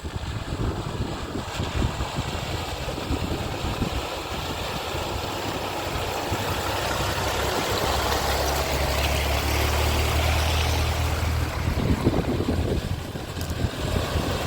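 An Isuzu pickup drives through sandy puddles, its steady engine drone mixed with wind buffeting and a deeper rumble that swells midway before easing off near the end.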